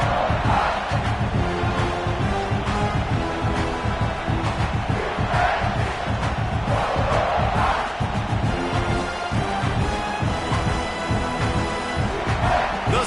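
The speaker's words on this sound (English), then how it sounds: "Oh, man, the crowd going nuts." Stadium crowd roaring and cheering at a college football game involving the Sooners, a dense, continuous wall of noise with swelling shouts, steady and loud throughout.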